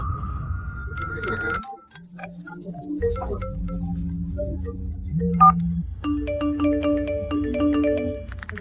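A mobile phone ringtone plays loud and close, a synthetic melodic tune of repeating electronic tones, with a short sung-like phrase at the start and a brighter chiming section toward the end.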